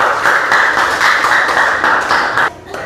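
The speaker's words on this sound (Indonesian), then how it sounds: "Beri tepuk tangan untuk kita semua sekali lagi." A class of fifth-grade elementary students clapping together in a classroom, a loud, close burst of rhythmic applause that cuts off near the end.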